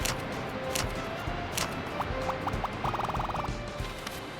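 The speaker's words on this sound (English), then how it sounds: "Probably this massive waterfall noise here." Broad, roaring waterfall sound from the Paper Robot video game, a steady loud wash of falling water filling the whole clip, with faint small clicks and blips from other game sounds layered over it.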